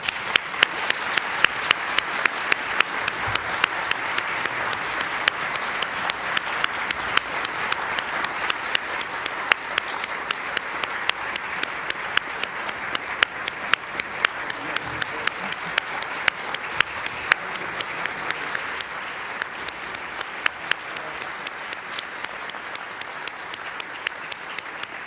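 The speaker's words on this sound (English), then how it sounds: "Please join me in a round of applause." An audience claps steadily and at length at a formal ceremony, dense even applause from a roomful of people that holds a consistent level and fades only slightly toward the end.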